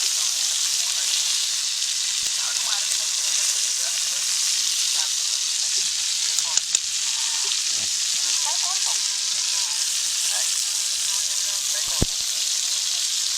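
Chicken fries on a clay roof tile with Koli Agri masala, giving a loud, continuous close-up sizzle with a few light clicks and pops, while voices talk faintly underneath.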